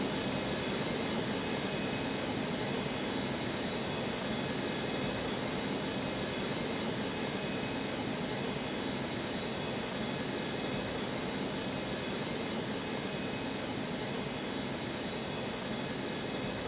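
Jet aircraft engines roaring at the Newark airport runways, a loud, steady, broadband rush that holds without a break.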